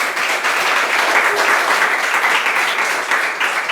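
A seated audience of girls and guests at a pad scholarship gathering bursts into loud, dense, continuous clapping that holds steady from start to finish, close and full.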